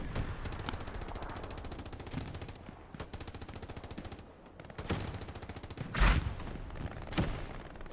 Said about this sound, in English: Some more artillery hits coming in right there.